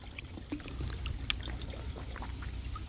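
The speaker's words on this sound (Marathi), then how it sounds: "त्याची बाटली लावलेली आहे याला, बारीक धार चालू आहे." A thin stream of cold mountain spring water trickles into a bottle, a soft continuous pour close by with faint dribbling splashes, no talking.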